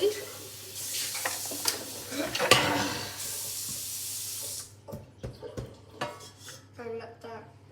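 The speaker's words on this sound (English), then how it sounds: "I'm going to need a bigger spoon to mix it properly." Honey being stirred with a spoon in a bowl for honey crackles, a run of wet scraping and clinking strokes, close and moderately loud, with a broad hiss in the first half and no talking.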